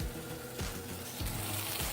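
Bologna and buttered bread fry in a pan, a steady close sizzle with soft crackle running throughout, punctuated by a few low thumps of the pan or spatula.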